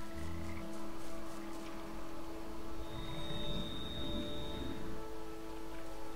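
Frog croaking in the video game Papo & Yo, a steady droning chorus of croaks over a constant low hum and game ambience, loud and continuous throughout.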